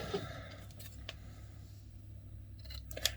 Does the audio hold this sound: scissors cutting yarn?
yes